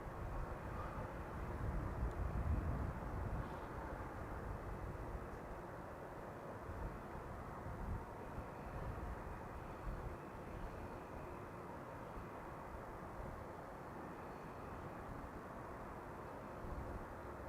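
Steady broad jet engine rumble from a KLM passenger jet taxiing onto the central runway at Amsterdam Schiphol, heard at a distance as a continuous even roar with a slight swell early on.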